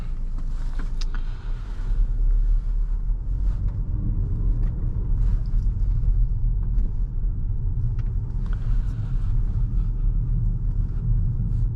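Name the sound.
2024 VW Tiguan SUV driving on road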